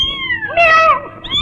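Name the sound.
man imitating a cat's meow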